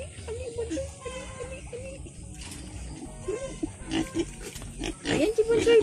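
Pet mini pig grunting and squealing for food indoors, a series of short close oinks and snorts in bursts, with a person talking quietly in the background.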